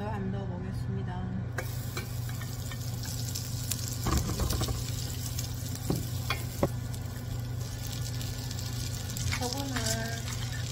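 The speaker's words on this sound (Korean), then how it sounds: "레몬 딜 버터 한번 넣어보겠습니다." Lemon dill butter sizzles in a hot frying pan, a steady crackling hiss with occasional clicks and knocks of utensils. A voice is heard faintly at moments.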